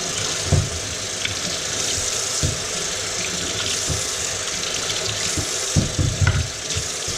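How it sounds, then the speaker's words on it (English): Potatoes are scrubbed under a running kitchen tap, with a steady close rush of water and occasional soft knocks and splashes from handling. "we are going to just give these potatoes a little scrub"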